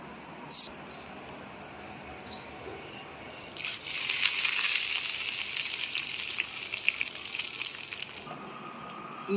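Quiet pan noise, then a loud burst of sizzling as cumin, red chilli and fenugreek hit hot oil for tempering kadhi, hissing strongly for several seconds before easing back down.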